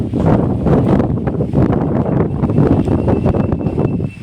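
Morning wind blows through a mango orchard, buffeting the microphone in continuous low rumbling gusts, with a faint rustle of leaves behind.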